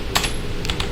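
Quick keystrokes on a computer keyboard typing a ping command into a terminal, a few crisp clicks in short bursts, close and clear with no talking.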